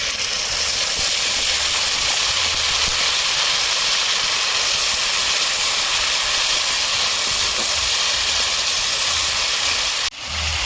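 Ginger, garlic and cumin paste sizzles in hot oil, a loud, unbroken hiss that holds steady throughout and cuts off briefly near the end.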